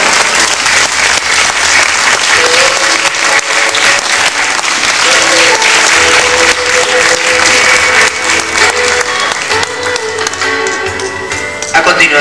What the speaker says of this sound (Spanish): El aplauso para todos ellos, por favor.